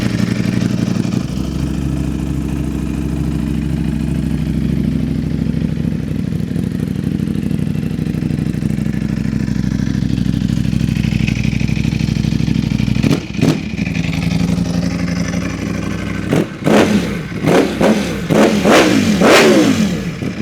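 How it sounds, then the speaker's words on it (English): A 2019 Ducati V4 R superbike engine idles with a loud steady rumble, then snaps into several sharp, rising revs near the end, very close. "Let's do some revs"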